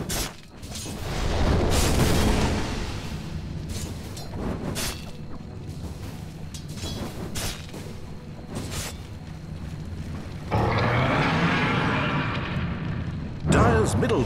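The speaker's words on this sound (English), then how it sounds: "Dire's bottom tower under fire" Dota 2 tower under attack: dense booms, crashes and crackling impacts pile up continuously, with bursts growing louder near the end, while a voice talks over the battle noise.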